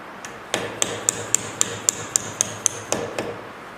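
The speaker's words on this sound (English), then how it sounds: "These pins right here are easily tapped out using your punch" Sharp metallic hammer strikes ring out one after another, about a dozen evenly spaced taps on a punch driving out brake caliper pins on a 2017 Camaro, close and clear with no talking.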